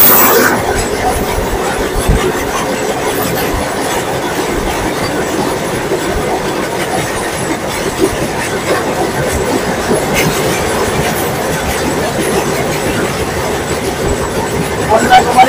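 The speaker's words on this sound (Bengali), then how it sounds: "এবার আমরা ট্রেন দেখবো ১৬-৩১৭ হিমসাগর এক্সপ্রেস" The 16317 Himsagar Express, a long-distance Indian train from Kanyakumari to Vaishno Devi, rolls past close by with a steady loud rumble and clickety-clack of wheels over rail joints, a faint squeal now and then and some voices mixed in.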